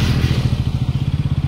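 A Bajaj NS 200 motorcycle during a wheelie attempt, its engine chugging in a steady pulsing rhythm close by, loud and without talk.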